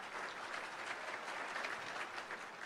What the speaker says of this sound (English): Let's give them another round of applause for their outstanding achievements.